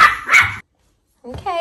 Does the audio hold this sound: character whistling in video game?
no